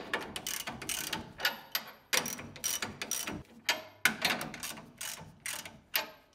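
A hand ratchet snugs U-bolt nuts on the leaf springs of a 1980-1996 Ford Bronco, giving bursts of quick, close metallic clicks with brief pauses between strokes, loud and alone.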